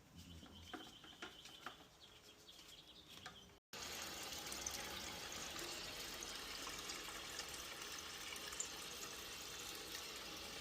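Water rushes through a water heater during a chemical flush, starting as a quieter trickle with a few clicks, then after a brief cut becoming a steady, loud gushing flow with no talking.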